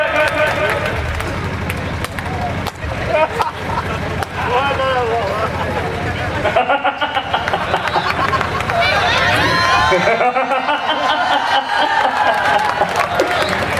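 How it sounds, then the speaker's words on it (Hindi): Loud audience applause and cheering for a performer taking the stage at a Hindi comic poetry show, a sustained crowd roar with voices over it and brief dips in the middle. "जोरदार तालियों के साथ"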